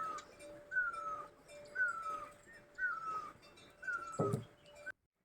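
Cats meow in a farmhouse setting in Uttarakhand. A plaintive meow repeats about every second, five times in a row, at moderate distance, with a brief thump near the end.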